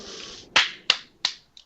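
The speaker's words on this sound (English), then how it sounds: "there's a bit loud of a clap there" Four sharp, close hand claps ring out one after another near the microphone during commentary on an RCW Backlash 2018 wrestling tag match, each crisp crack decaying quickly, the last one softer.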